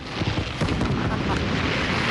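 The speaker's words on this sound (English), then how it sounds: "you can see the fireworks are just gorgeous" New Year's Eve 2000 fireworks over Chicago crackle and boom continuously at a distance, a dense rumbling wash of bursts heard behind crowd noise and talk in a live outdoor city broadcast.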